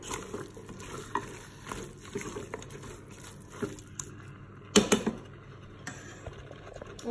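Harira soup ingredients are stirred in a Cookeo electric pot, producing soft scraping and light clinks over a low sizzle. A louder cluster of spoon knocks lands near the end.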